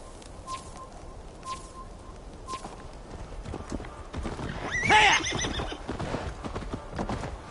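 A horse in the video game Assassin's Creed Valhalla gives a loud, shrill neigh in the middle of the clip, with hoof clip-clops and soft ambient game sounds around it.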